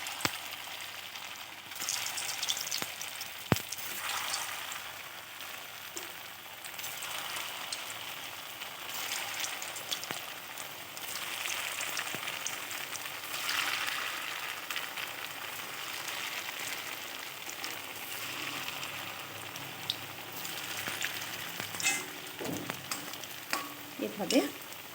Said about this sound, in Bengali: অল্প অল্প করে বড়াগুলো আমি গ্যাসের স্টিম একদম লো করে